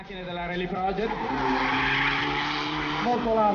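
A rally car at the 2013 Rome Capital rally skids wide through the first corner, its tyres scrubbing under a loud, sustained engine note as an announcer talks over it.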